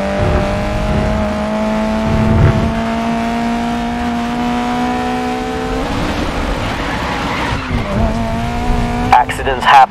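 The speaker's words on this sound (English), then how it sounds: "This right-hander is great to practice a power slide." A race car in the video game GRID Legends power-slides through a right-hand corner, its engine droning loudly under a long, continuous tire squeal that shifts near the end.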